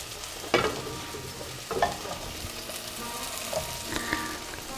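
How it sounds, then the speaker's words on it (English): Chicken hearts and livers fry in a pan with a steady, crackling sizzle, with a few louder clatters as they are stirred or moved, close up and without talking. "I'll start frying these."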